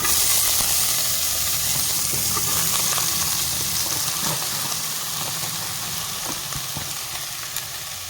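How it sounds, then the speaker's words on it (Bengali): Chopped onions hit hot oil in a wok, a loud, close, continuous frying sizzle and steamy hiss that eases slightly toward the end, with faint stirring clicks and no talk. "তেলটা গরম হয়ে গেছে দিয়ে দিব দুটো পেঁয়াজ কুচি"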